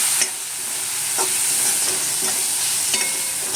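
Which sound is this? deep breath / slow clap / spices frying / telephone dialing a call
spices frying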